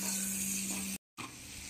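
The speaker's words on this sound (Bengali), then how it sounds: "মাখনের মধ্যে এই আপেলগুলো দিয়ে দেবো।" Diced apples sizzle in melted butter in a wok, a steady close hiss with a low hum underneath, cut by a brief silent gap before the frying resumes just as loud.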